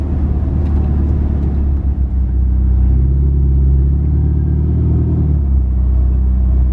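A Ferrari with a modified exhaust rumbles close by with a deep, steady drone, and the pitch of the engine rises and falls slightly as it runs.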